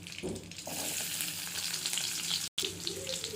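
Onions frying in hot oil in a kadai already crackling with mustard seeds and cumin, a continuous soft sizzle with a brief stir near the start and a short cut-out late on, no talking.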